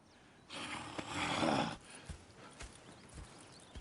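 Horses in the Red Dead Redemption 2 video game, a short breathy snort followed by soft hoof clip-clops and small thuds, quiet and nearby with no talking.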